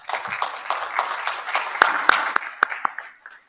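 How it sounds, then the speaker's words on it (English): A small group at a business awards ceremony claps briefly, with a few loud, distinct close claps standing out before the applause fades away. "Thanks for your kind applause."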